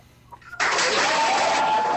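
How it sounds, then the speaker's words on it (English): Applause for Spoka on a startup talk show starts abruptly after a brief quiet moment and continues as a steady, close clapping wash to the end. "Round of applause for Spoka."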